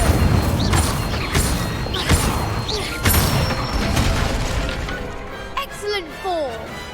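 Fire spell cast with a wand in Hogwarts Legacy, a loud burst of whooshing flames and cracks, with repeated spell impacts under background game music and clashing effects.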